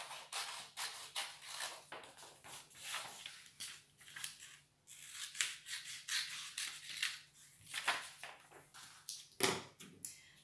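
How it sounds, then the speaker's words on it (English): Scissors snipping through folded A4 paper while making a paper poppy, a rapid series of close, crisp cuts with short pauses in between, one louder snip near the end. "So just fold it and cut out 1/4."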